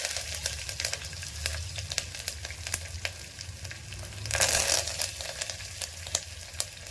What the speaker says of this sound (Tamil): நல்லா பூண்டு வதங்கணும். கருவேப்பிலையே போட்டுக்கோங்க.